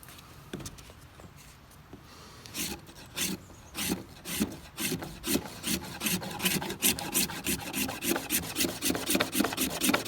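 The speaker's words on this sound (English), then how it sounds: "let's scrape this rough piece of fatwood with the same knife that we just sharpened" A freshly sharpened knife spine scraping a rough piece of fatwood, starting with sparse scratches and building into a steady run of close, rasping strokes in quick rhythm.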